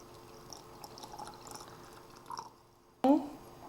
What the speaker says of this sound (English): I'm going to cover it with some water here